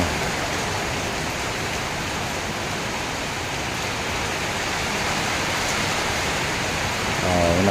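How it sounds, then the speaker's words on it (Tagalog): Heavy wind-driven rain pours down in a steady, loud, unbroken hiss with no pauses, filling the whole stretch. "Dito lang lakas ng ulan."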